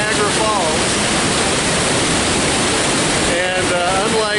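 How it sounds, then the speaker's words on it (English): Kakabeka Falls in Ontario, Canada, a high-volume waterfall roaring as a loud, continuous broadband rush, with faint voices breaking through briefly near the start and end. "This is the second largest, by volume, waterfall in all of Canada."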